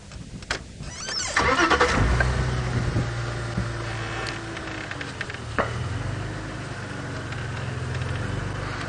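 A safari vehicle on an evening game drive starts up and rumbles off-road, its engine catching with a burst, then a steady mid-pitched drone with occasional knocks and jolts, fairly close and without talk.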